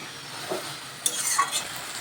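Jute spinach curry with spices being sautéed and stirred in a pan, a soft sizzle with a few scraping stirs and light clinks of a utensil, close and without talk.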